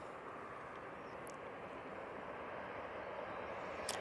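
An EasyJet airliner touching down at Manchester Airport, a steady broad roar of jet engines and rushing air, moderately distant and continuous, with no talk.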